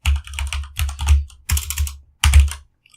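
Fingers typing a folder name on a computer keyboard, close, crisp clattering key taps in four quick bursts separated by brief pauses.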